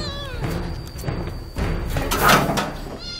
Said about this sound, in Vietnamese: Em đang bắt con mèo.